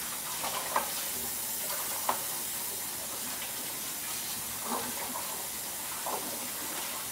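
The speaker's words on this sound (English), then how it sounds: "this is not how you're supposed to wash the cast iron pot" Cast iron pot being washed under running water, a constant close hiss of flowing water with occasional soft knocks and splashes, no talking.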